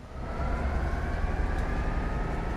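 An express train picks up speed in the Train Sim World 2 game, a loud, steady rushing roar with low rolling rumble building in the first half-second and holding.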